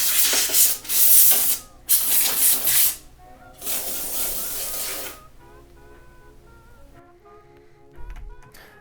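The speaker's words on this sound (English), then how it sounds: "Once you have it all loosened up, spray it out, and that should get any of the dust that was in there out of the case." Compressed air sprayed in bursts to blow dust out of a custom-built computer case: several loud hissing blasts, then quieter handling and faint tones.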